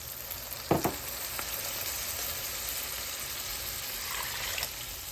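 Steady sizzling and frying of a tomato curry fills the clip, with a couple of short clinks near the start and water hissing as it hits the hot pan with chili powder.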